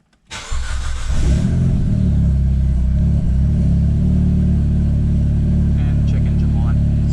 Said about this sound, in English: Start the car back up.